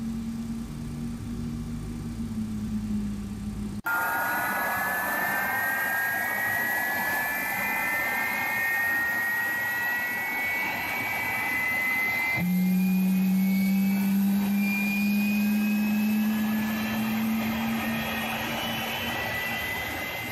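Simulated MD-11F freighter jet engine spooling up in a flight simulator, a rising turbine whine and rumble that resets and climbs again partway through, steady and prominent with no talking.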